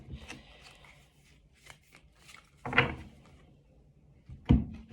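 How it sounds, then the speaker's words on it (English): Tarot cards are shuffled by hand in a quiet room, giving soft scattered riffles and taps, with two sharper slaps of the deck near the middle and the end. "While I shuffle, I'll see if I can get any more messages from the cards in front of me as well."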